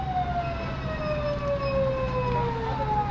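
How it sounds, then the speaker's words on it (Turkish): An ambulance siren wails across crowded road traffic, its tone gliding steadily downward over a constant low rumble of engines, fairly close and unbroken throughout. "Ambulans var. Ambulansa yol vermiyorlar."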